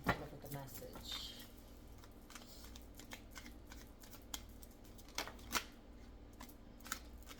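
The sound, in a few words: shuffling tarot oracle cards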